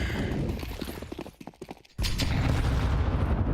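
Submachine gun fire in a professional Counter-Strike match comes as rapid volleys of close, loud shots. A clipped run of individual reports is followed by a dense burst of gunfire and explosive impacts.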